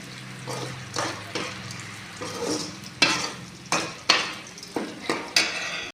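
Garlic, onion and curry leaves fry in oil with steady sizzling, broken by repeated sharp scrapes and clinks of a spoon stirring against the pan, fairly close and without talk.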